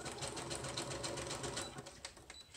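A sewing machine runs zigzag stitches through journal paper, a rapid, even mechanical chatter of needle strokes, close and steady for a couple of seconds with no speech.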